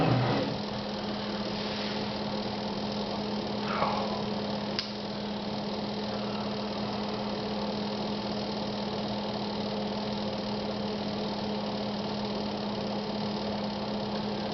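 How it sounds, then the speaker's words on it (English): A steady low electrical hum with a faint buzzing drone runs unchanged throughout a quiet room, with a brief soft knock partway through. "All I hear is the refrigerator buzzing."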